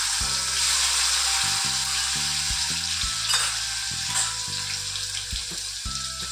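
Tomatoes drop into hot oil with popped mustard seeds, cumin and asafoetida and set off a loud, steady sizzle, broken by repeated scrapes and clanks of stirring. No one speaks.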